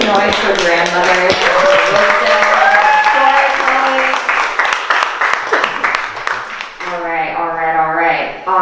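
A crowd at a youth spoken-word poetry showcase applauds and cheers a poet, with loud, dense clapping under voices and shouts that tapers off before talking resumes.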